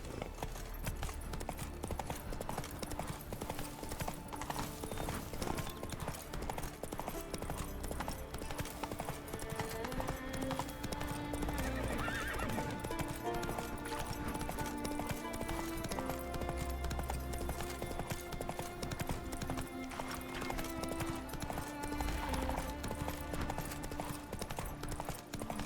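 Steady hoofbeats of Roach, the horse in The Witcher 3, galloping at a rhythmic clip-clop under constant game music and ambience, loud and continuous throughout with a brief voice call.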